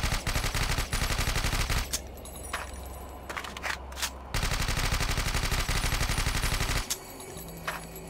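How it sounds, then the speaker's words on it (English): Rapid automatic gunfire in the game Lastworld, with several long bursts of closely spaced shots and short pauses. Tinkling ejected bullet casings land between the bursts. "Now every time you shoot, bullet casings are ejected from the gun and thrown out into the world."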